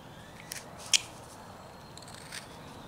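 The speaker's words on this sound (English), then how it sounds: "We will bring this like this and cut deep" Knife cutting deep into basswood while carving a cardinal's wing, a few brief sharp scraping cuts, one louder snap near the middle, over a quiet hiss, close up.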